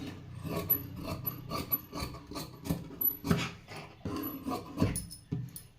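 Scissors snipping through blouse cloth while cutting out a size 37 blouse's hook piece, a run of close, brisk rasping cuts in a steady rhythm with no talking.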